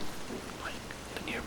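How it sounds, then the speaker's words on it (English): Steady pouring rain hisses as a dense, even wash with faint scattered drop patter, low and continuous from start to end with no other sounds on top. "The rain was still pouring"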